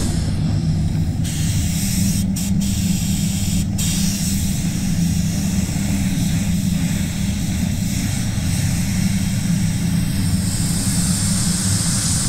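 Spray gun applying PPG paint to an Isuzu D-Max in a booth: a constant, loud airy hiss with a low rumble beneath it, broken briefly by a few short pauses as the trigger is released, then carrying on steadily.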